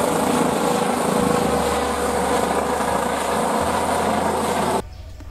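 A helicopter's rotor and engine roar steadily and loudly, close by, then cut off abruptly near the end.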